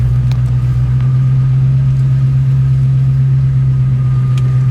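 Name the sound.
1966 Ford Mustang Fastback engine idling, possible exhaust leak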